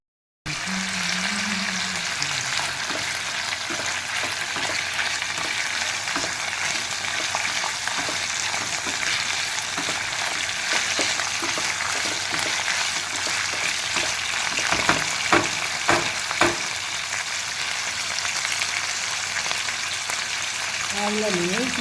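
Amla pieces heat in coconut oil for a hair oil remedy, a continuous close frying hiss with a burst of bubbling and crackling partway through, and a brief voice near the start.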